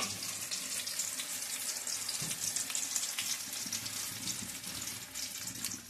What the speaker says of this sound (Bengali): কচু ভাজা হচ্ছে যে